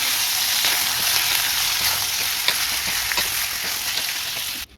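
Chicken pieces sauté in oil with onions for a roasted chicken fry, producing a loud, continuous close-up sizzle with occasional light stirring taps, ending abruptly.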